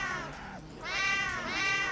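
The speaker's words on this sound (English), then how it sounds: "I'm shooting a cat at Martian zombies" A cat meows in Black Ops 3 Custom Zombies, two drawn-out, wavering meows close and fairly faint, heard alone over a light game background.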